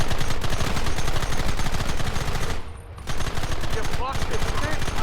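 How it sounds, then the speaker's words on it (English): Dense, continuous rapid gunfire like sustained machine-gun bursts, loud and close, with a brief lull partway through before the shooting resumes, shouted voices mixed in with the barrage. "Fire at will! Stop shooting at me!"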